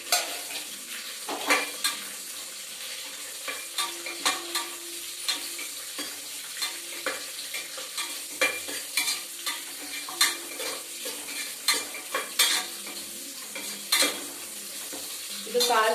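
Onions fry in a pan for a rajma masala, a soft continuous sizzle broken by frequent scraping clicks of a spoon stirring against the metal, close and fairly quiet.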